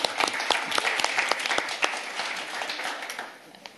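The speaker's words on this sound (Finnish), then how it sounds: "meidän on nyt syytä antaa pienet aplodit meidän lämpäribändille" Audience applause for a warm-up band at a child-friendly municipality learning network event, made of distinct, fairly sparse claps that thin out toward the end.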